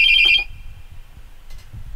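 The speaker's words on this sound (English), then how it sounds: "the phone is very loud in here." A telephone rings loudly in a radio studio, one bright electronic ring burst at the start that cuts off, followed by faint room noise and a brief softer chirp near the end.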